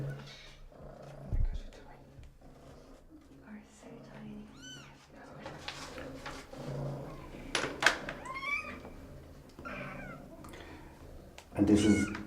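Several black and white kittens at an animal shelter mew repeatedly in thin, high cries scattered throughout, close by, while people talk softly over them.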